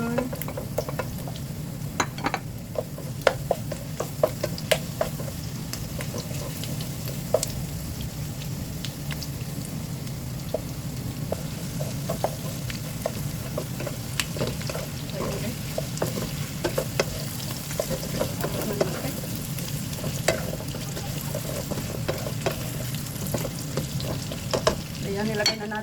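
Garlic and onion fry in a pan with a steady, crackling sizzle, scattered pops and occasional stirring clatter running continuously at moderate loudness.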